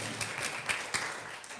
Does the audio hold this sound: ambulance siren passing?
no